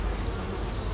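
Honeybees swarm and buzz around an opened beehive, a dense, steady, close hum that fills the whole moment without any talking.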